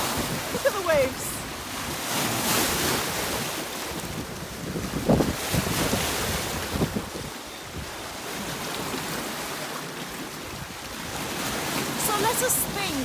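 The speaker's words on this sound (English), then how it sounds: "Look at the waves." Ocean waves wash and surge steadily under strong wind buffeting the microphone, a loud, continuous roar by the sea.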